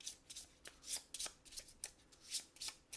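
Playing cards being shuffled for the Too Many Bones board game: a run of crisp riffling bursts and snaps, close and fairly loud, repeating in quick irregular rhythm with no talking.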